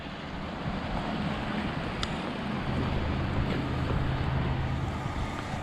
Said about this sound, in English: Storm drain's running pretty good.